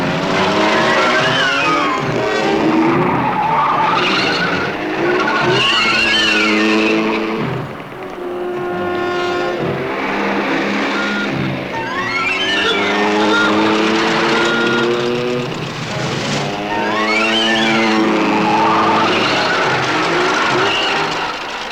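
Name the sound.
car driving fast with tires skidding, from a 1966 horror movie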